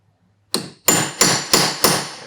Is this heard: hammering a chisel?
yes